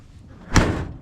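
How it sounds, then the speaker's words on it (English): The door of a 1979 K10 pickup truck is pushed shut in a single solid slam, close and sharp, with a brief rattle afterward and no talk. "doors need a little bit of push to get them shut"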